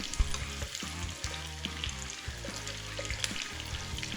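Swedish meatballs fry in butter in a pan, giving a steady, close sizzle and crackle that runs unbroken the whole time with no one talking.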